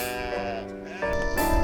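Sheep bleat on a livestock breeding farm in the Aginsky Buryat district, a close, loud, wavering bleat running continuously through the short moment with overlapping voices from the flock.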